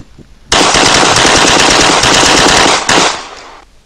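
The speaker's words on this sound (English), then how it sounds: "You feel your body being peppered with shots from an AR-15" Rapid automatic AR-15 rifle fire rattles in one loud, continuous burst lasting about three seconds, with a brief break near the end before trailing off, close and with no voices.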